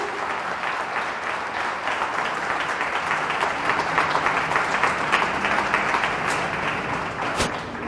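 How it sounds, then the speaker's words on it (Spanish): A church congregation at a Catholic service applauds strongly, a dense and sustained wash of clapping that swells slightly toward the end, with no speech over it. "Fuertes aplausos al Señor Jesús"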